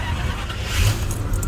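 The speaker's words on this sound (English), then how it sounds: "at least the car still starts" A Jaguar with troublesome Lucas electrics starting up nearby, a brief cranking rumble catching into a low running engine, short and fairly quiet, with no voices.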